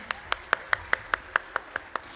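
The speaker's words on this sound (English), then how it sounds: "Let's give a huge round of applause to this incredible performance once again" Faint, evenly spaced clapping at an annual school fest after a stage performance, about ten crisp claps in a steady quick rhythm, heard alone in a quiet hall.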